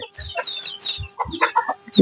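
Country roosters kept by tribal farmers in the Rampachodavaram agency area cluck and call in short, overlapping bursts, close by, with brief gaps between the squawks and no talking.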